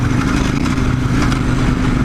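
A KTM 1290 Super Adventure R motorcycle rides off-road on dirt trails near Big Bear, its engine droning steadily and loudly close by, with no voices.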